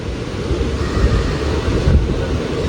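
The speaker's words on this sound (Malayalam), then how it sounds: "8:39 പയ്യന്നൂർ റെയിൽവേ സ്റ്റേഷനിൽ നമ്മൾ ഡിപ്പാർട്ടായിട്ടുണ്ടേ" Diesel locomotive train pulling out of Payyanur railway station, heard as a steady low rumble and rolling rattle with wind buffeting, fairly loud and continuous with no voices.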